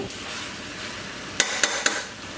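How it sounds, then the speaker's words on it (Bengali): Washed mutton stirred into a pot with spices for yakhni pulao, a low frying hiss under three quick metallic scrapes and knocks of a spoon against the pot. "এবার মিশিয়ে দেব 500 গ্রাম ধুয়ে রাখা মাংসটা দিয়ে ভালো করে নাড়িয়ে চাড়িয়ে একসাথে মেশাবো।"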